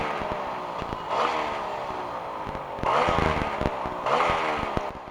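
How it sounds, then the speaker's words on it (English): A Yamaha RX 135 two-stroke motorcycle idles close by, its exhaust giving a rough, uneven putter with periodic swells and bursts of revving that recur every couple of seconds. "So this is the idling sound of my cat. You can see the exhaust note."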